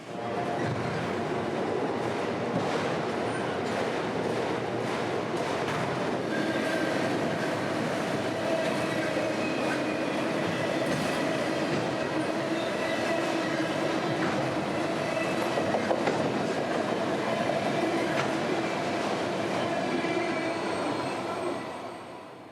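Freight train M208, a daily run of empty auto rack cars from Baldwin to Louisville, rolls steadily past at close range, a continuous loud rumble of wheels with metallic squeals and rattling clatter throughout.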